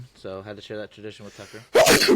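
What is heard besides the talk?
sneeze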